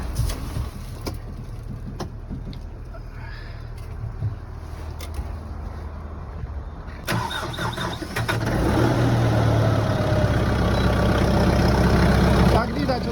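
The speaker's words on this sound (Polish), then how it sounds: "ciągnik zapalił i jest gotowy do pracy" A Kubota M4063 diesel tractor engine catches in about minus 15 degree cold and settles into a rough, steady idle, growing louder and fuller midway, heard up close.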